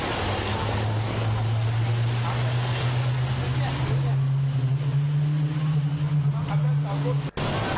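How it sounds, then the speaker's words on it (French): A line of wooden pirogues motors across the open Atlantic Ocean near Conakry, a steady low engine drone with wind and washing waves, loud and continuous. "des pirogues en file indienne naviguent sur l'océan Atlantique"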